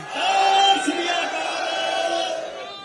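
A large crowd at an Aam Aadmi Party nomination rally in Ludhiana West roars its answer to the Sikh war cry, a sustained collective shout that swells early and then slowly fades.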